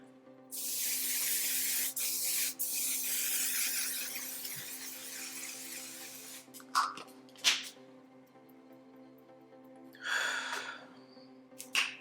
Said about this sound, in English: I'm going to use the One Size Until Dawn spray.